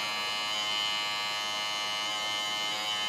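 Electric hair clippers, with the guard removed, shave the side of a head, giving a continuous close, even buzz with no pauses.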